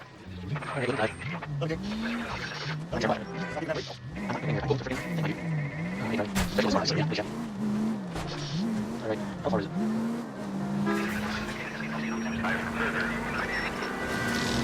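Car driving in the L.A. Noire video game, with an engine wavering through repeated revs and tire squeals, then a steadier cruising tone, mixed under game sounds.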